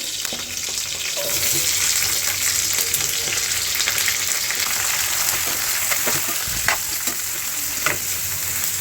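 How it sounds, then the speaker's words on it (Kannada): Green chillies and onions fry in oil in a pan with a loud, constant sizzle, broken by occasional scraping stirs and clinks, with no talk. "ಈರುಳ್ಳಿ ಸ್ವಲ್ಪ ಕಲರ್ ಚೇಂಜ್ ಆಗೋವರೆಗೂ ಫ್ರೈ ಮಾಡ್ಕೊತೀನಿ"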